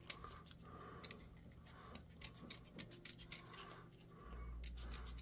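Scissors trimming excess paper from papercraft soldier pieces, a series of faint, close snips and rustles repeating at an uneven pace over a low room hum.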